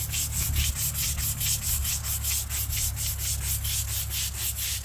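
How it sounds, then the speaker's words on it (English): Toilet brush scrubbing a veteran's stone headstone while it is rinsed with D/2 biological solution, a rapid, regular back-and-forth rasp repeating about three strokes per second, close and steady. "So while I'm scrubbing, I'm rinsing at the same time again."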